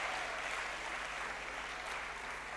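Steady, even clapping from an audience, a dense wash of applause held at a moderate level the whole time.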